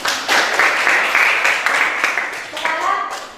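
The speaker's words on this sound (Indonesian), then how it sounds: "Kita beri tepuk tangan." Classroom applause for a student's performance during a teaching practice session, a short burst of many hands clapping together with a voice talking over the top.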